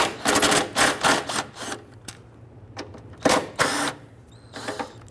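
A ratchet loosens 10mm bolts on the AC condenser of a 1999–2004 Jeep Grand Cherokee. Close, loud bursts of rapid clicking come in uneven runs, with short pauses and faint knocks between them.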